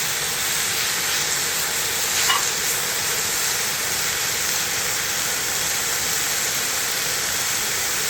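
Pork belly sizzles on a cast-iron griddle outdoors, a steady, dense hiss that continues evenly for several seconds without talking.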